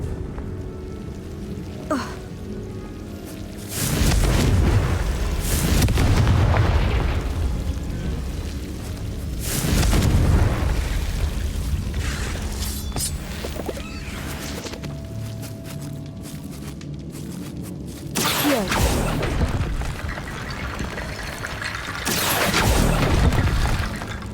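Spell blasts cast in Hogwarts Legacy, played on hard mode: about five loud, crackling bursts land at irregular intervals, each with a rumbling, shattering tail, over a low steady game ambience with no talking.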